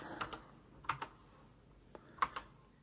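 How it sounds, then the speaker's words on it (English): Sparse keystrokes on the clunky keyboard of a Freedom 100 CRT serial terminal, a few distinct clacks in small clusters with quiet gaps, close and fairly soft in a quiet room. "I quite like this keyboard. It's nice and clunky. Not the best keyboard to type on"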